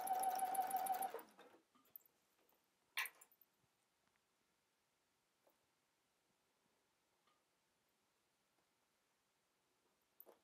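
A sewing machine stitching a dress skirt runs in a brief fast burst, then gives a second short burst, followed by near silence with faint ticks and small handling noises.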